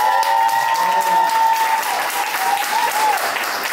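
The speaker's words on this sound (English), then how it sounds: "Clap it up, clap it up" A live podcast audience claps and cheers in a loud, continuous burst, with a sustained tone and a voice threaded through the applause.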